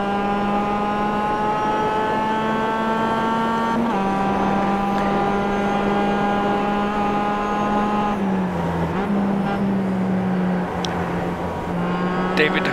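Racing car engines in a sim race at Brands Hatch Indy, several cars nearly three wide, droning loud and steady with shifting pitch lines as gears change, while someone talks over them.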